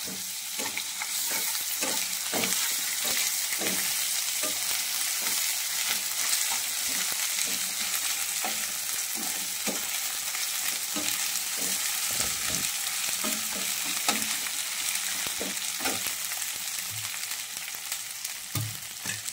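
Ginger-garlic paste frying for a Bengali chicken kosha, a steady close sizzle with repeated scraping stir strokes throughout, no talk.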